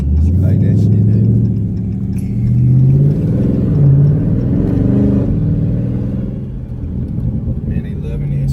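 A Dodge Charger 392 police car in sport mode drives through city streets, its engine giving a steady deep rumble that swells and eases, loud and close throughout, with someone talking over it.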